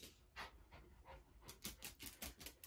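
A dog pants close by in quick rhythmic breaths, softer at first and then faster and louder, with no talking.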